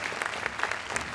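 Applause crackles from the grandstands at a show jumping event, a short burst of steady clapping from a crowd of spectators.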